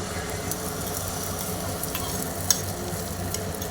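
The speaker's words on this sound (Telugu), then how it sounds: "ఇప్పుడు మనం తయారు చేసిన ఈ ఆమ్లెట్ మిక్చర్ని మనం దీంట్లో 2 times వేసుకుంటున్నాం" Omelette mixture sizzling steadily in an oiled pan, a continuous close frying hiss with one brief sharp tick partway through and no voices.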